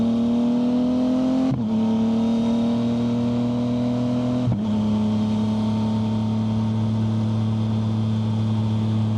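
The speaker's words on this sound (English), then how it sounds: "now I'm just going to do some regular riding like I normally would" A Yamaha MT-09 motorcycle with an aftermarket tune rides and accelerates, a loud, close engine hum climbing through the revs with two quick gear shifts that drop the pitch before it pulls on steadily.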